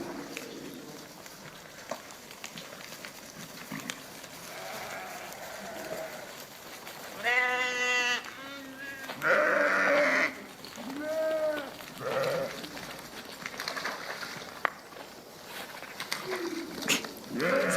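Sheep bleating in a field with a herd being called in, several wavering bleats clustered midway, loud and close, mixed with a person's calls and talk throughout.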